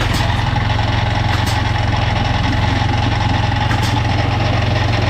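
A Yamaha NMAX scooter engine with a cracked engine block starts and idles steadily and loudly up close, a continuous low putter with no voices.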